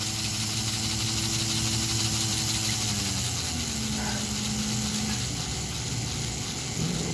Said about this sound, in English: Not going very fast, but you know, it can go faster. So noisy gear.